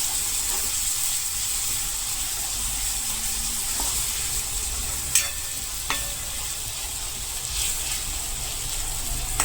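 Spices with turmeric and chilli powder fry in a pan for kantola curry, a steady broadband sizzle that stays constant throughout, with a few faint clicks of stirring and no talking.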